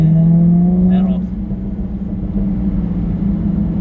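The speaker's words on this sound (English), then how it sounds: "Does it make bubble? Cracks, crackles and pops." Jaguar F-Type V6 S idling and rumbling on its stock exhaust, with a brief blip and rough crackle near the start before settling into a steady low burble, heard close with no talk over it.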